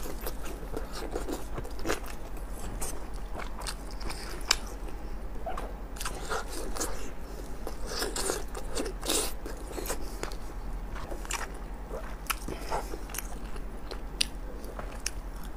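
Sheep meat being bitten and chewed at a spicy family mukbang, with close, wet crunching bites and chewing repeating steadily throughout, with no talk over it.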